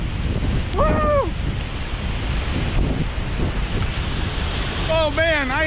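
A loud, steady roar of rushing water from a waterfall close by at Shellburg Falls, with wind buffeting and a couple of brief voices breaking through.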